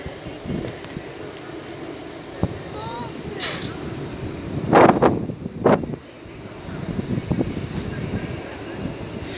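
A Class 350 electric train arrives at Bletchley station with a low rolling rumble, squealing wheel and brake tones, and a few bursts of air, heard at platform distance amid wind noise.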